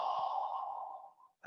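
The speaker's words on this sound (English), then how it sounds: "let the belly soften, a moment of stillness, and then breathe out" A slow, soft breath out during a qigong exercise, close and fairly quiet, breathy and fading over about a second, followed by a brief pause and the start of a new breath.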